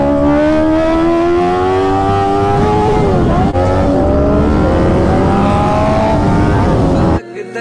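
A Kawasaki Ninja 400 motorcycle races on a track, its engine note climbing in a loud continuous rising whine, dipping briefly mid-way before surging again, close and dominant until it cuts off abruptly near the end.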